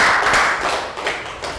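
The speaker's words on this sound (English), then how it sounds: "Round of applause for Dan." Pupils in a Year 3 science lesson break into dense, continuous clapping for a classmate, a loud, close wash of many hands with a few stronger beats standing out.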